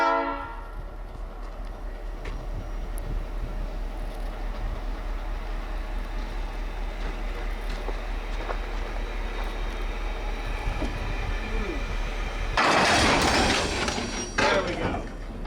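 Passenger cars on the Campo Railroad, the former San Diego and Arizona Eastern line, are coupled together, with a low rail rumble that ends in a loud clanking, hissing burst near the close.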